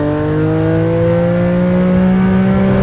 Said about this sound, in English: bouncing off the red limiter